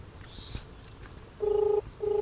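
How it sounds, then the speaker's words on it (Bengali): A mobile phone call ringing back through the earpiece, two steady tone bursts about half a second apart, faint over light room noise, with no talk. "তো ভাই শুনতেই পাচ্ছ রিং হচ্ছে এখন।"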